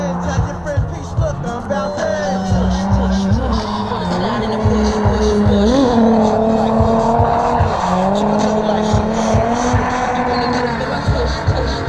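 A Nissan G35 drifts at a drift event, its engine roaring steadily and loud with throttle pulses and rising, falling revs, tires squealing and skidding throughout.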